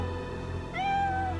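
A cat gives a single clear, rising-then-falling meow close by, standing out over a steady low background hum.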